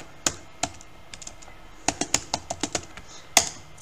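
Keystrokes on a computer keyboard as a website name is typed: one sharp tap, a pause, then a quick uneven run of close, crisp clicks ending in a harder press.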